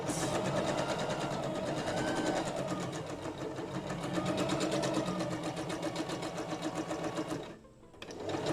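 A sewing machine stitches fabric in a fast, even mechanical rattle, running loud and continuous for about seven seconds, pausing briefly when the stitch direction is reversed, then starting again.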